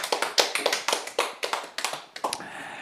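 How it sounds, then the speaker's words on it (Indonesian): A church congregation claps in praise to God during a sermon on family. The claps come as a dozen or so sharp, fairly evenly spaced strikes, close and clear, with no talk over them. "Tepuk tangan dong buat Tuhan dong"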